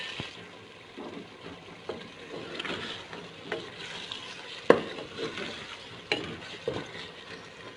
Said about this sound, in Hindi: चिकन को बहुत ही अच्छे तरीके से कुक कर लेना है।